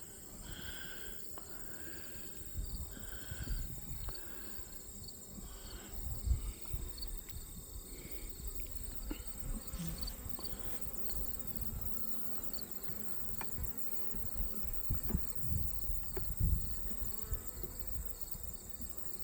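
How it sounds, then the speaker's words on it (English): A steady, close swarm of honey bees hums continuously around a hive frame, with the drone rising and falling slightly as insects move about nearby. "Oh, lots of bees on there."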